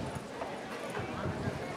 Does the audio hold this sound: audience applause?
no